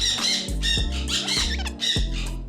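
Exotic parrot squawks repeatedly in harsh, raspy bursts about every half second, loud and close, with a low hum running underneath.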